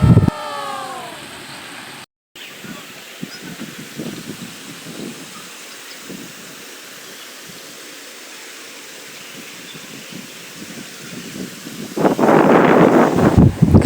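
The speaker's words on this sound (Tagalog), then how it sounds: "damang-dama mo talaga pati ang ihip ng hangin" Steady rushing wind noise at a waterfall with broadband hiss, briefly cut out near two seconds and swelling louder toward the end; no voices.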